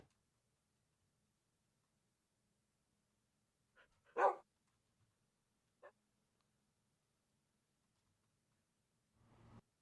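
A faint dog woof in a Minecraft Star Technology modpack world: one short bark with a couple of softer yips around it, set in near silence.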